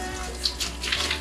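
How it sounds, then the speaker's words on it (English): Water poured through a colander into a newly set-up reef aquarium with wet sand, making a steady splashing patter like rain, close and continuous for about a second. "I like to add the water into a colander because it makes it rain in there"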